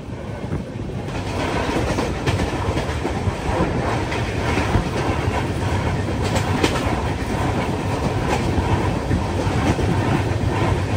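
The Jammu to Tirupati Humsafar Express rolls steadily along the rails at cruising speed with loud, continuous rumbling and clickety-clack, heard up close from onboard, no voices.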